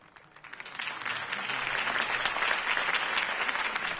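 A video game crowd breaks into applause that swells quickly and holds as steady, dense clapping.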